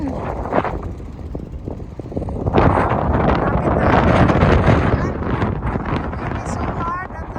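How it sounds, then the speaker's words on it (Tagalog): Strong cold wind blowing across open countryside during a bike ride, buffeting the microphone in a loud, steady rush that swells around the middle, with a person talking over it. "Ang lamig sa hangin."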